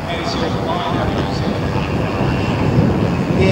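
Steady, droning cabin roar of a Beech 1900D turboprop airliner's engines in flight over New Zealand, a dense continuous hum with no breaks.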